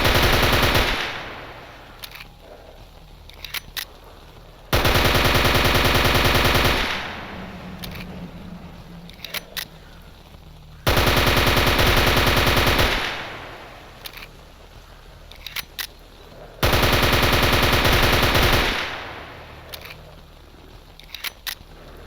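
Bursts of automatic fire from an APS machine pistol in the video game S.T.A.L.K.E.R. Anomaly, three long loud strings of rapid shots separated by quieter gaps with faint clicks and handling noises.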